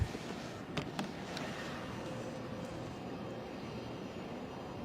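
Embraer airliner inbound to London City Airport, a steady distant engine roar holding evenly throughout with a few brief clicks near the start.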